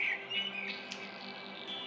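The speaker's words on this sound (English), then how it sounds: "Birds." Small birds chirping in short high tweets over a steady background hum, faint and somewhat distant, with no voices.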